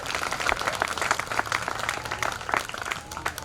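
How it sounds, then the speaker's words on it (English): Crowd applause at an outdoor Juneteenth 2021 celebration in Walpole, with a moderately loud, uneven patter of many hands clapping throughout. "Clap it up, clap it up."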